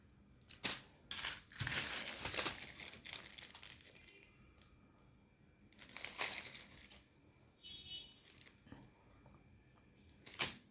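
Plastic bag crinkling and rustling in repeated bursts as a necklace is shown inside it, close and fairly loud, with quieter pauses between handling and no talk.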